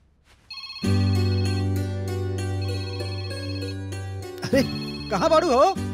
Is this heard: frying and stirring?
no